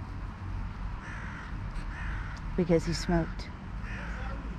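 A small crow caws in a few harsh, rapid bursts close by, mixed in with a person talking nearby.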